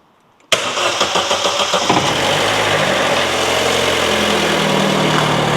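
A car engine cranks and catches after a brief quiet, then runs at a loud, lumpy, rattling idle with a few early revs that settle to a steady rumble close by.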